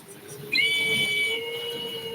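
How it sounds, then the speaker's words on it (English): An emergency fire whistle blasts three tones at once: a loud, steady, piercing chord that kicks in abruptly and holds without a break over a constant background hum. "The emergency fire whistle is the next level. It generates three different tones at the same time."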